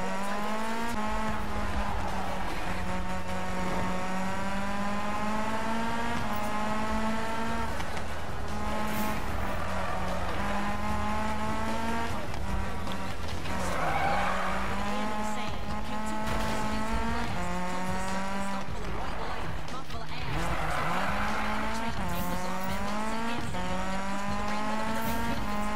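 A 1986 Toyota Sprinter AE86 races in Need for Speed on PS4, its engine revving continuously with rising and falling pitch as tires squeal and skid in repeated bursts through the run.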